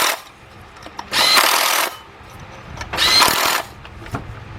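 A 10 mm shallow socket on a 3/8 drive power tool tightens a bolt on a 2005 Cadillac CTS 3.6 engine, two loud whirring bursts about two seconds apart with quiet workshop shuffling between.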